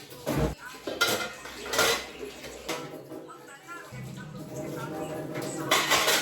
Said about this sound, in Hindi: यहाँ पे ढेर सारे बर्तन हो गए हैं, तो पहले इनको धो लेते हैं।